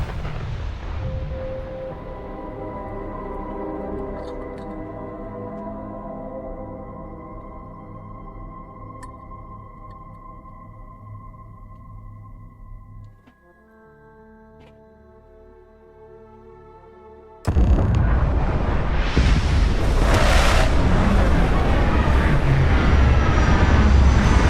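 A spaceship in the video game Starfield descends toward planet Jemison, a loud sustained droning engine tone that drops away briefly before erupting into a roaring, rumbling blast of thrust and touchdown.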